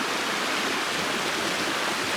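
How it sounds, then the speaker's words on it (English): Small river on a Portuguese homestead, running as a steady, dense rush of flowing water, close and constant, with no talking. "Little river that runs down"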